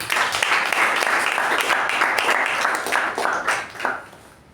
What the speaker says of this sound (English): huge round of applause to the TAPG team for doing their job well